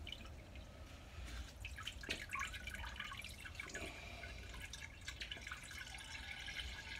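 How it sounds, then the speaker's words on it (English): Homemade Grand Bohemian Pilsner beer is strained, giving a faint, continuous trickle and drip of liquid with small irregular splashes, quiet and close. "Straining the beer."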